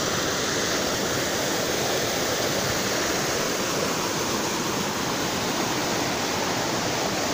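Mountain river in the Carpathians rushing over rocks, a loud, constant broadband roar of flowing water close by, with no voices.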